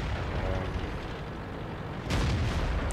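A Black Prince heavy tank fires its cannon in World of Tanks. A single sharp, booming blast breaks through a low background rumble near the end and stays loud as it rings out.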